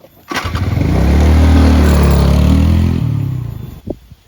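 A motorcycle engine cranks and catches, then runs at a loud, steady rough idle with a swelling rev before cutting out, close to the listener.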